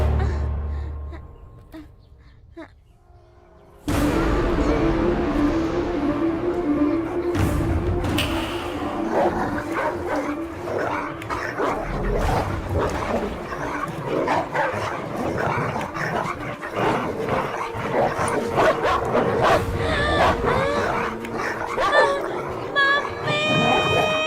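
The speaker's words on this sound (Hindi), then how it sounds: "सिर्फ एक आम के लिए बच्चे पर कुत्ते छोड़ता है क्या?" Dogs let loose on a child bark and yip amid a busy, dense mix of movie sound in a Hindi-dubbed action film scene, the barking continuous and fairly loud after a quiet opening few seconds.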